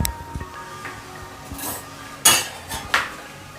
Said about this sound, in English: let me get a fork to stir this